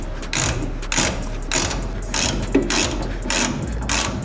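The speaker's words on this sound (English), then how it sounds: "I'm just going to put my hand there and get this bolt undone" A ratchet wrench clicks in quick, steady bursts while undoing a bolt on a Mazda B-Series mini truck suspension, loud and close with brief pauses between strokes.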